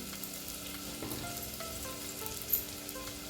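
Chopped onions fry in a pan with a quiet, steady sizzle and a few faint stirring clicks throughout.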